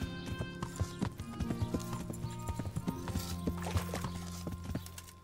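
A horse in the video game Kingdom Come: Deliverance walks with a steady, rhythmic clip-clop of hooves close by, with a short whinny mixed in.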